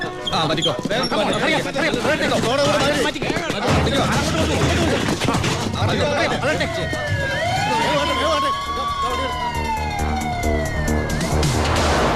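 Voices and busy clattering noise fill the first part, then a loud fire engine siren wails up and down, sweeping in pitch and holding close.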